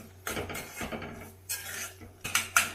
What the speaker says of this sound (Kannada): ಈಗ ಅದು ಚೆನ್ನಾಗಿ ಮಿಕ್ಸ್ ಮಾಡ್ಕೊಳ್ರಿ